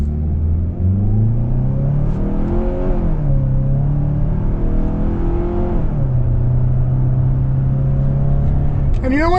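2026 Kia Sorento S AWD accelerating through manually selected shifts of its 8-speed automatic, a steady engine drone climbing in pitch, dropping at each upshift, then climbing again, with talking over it.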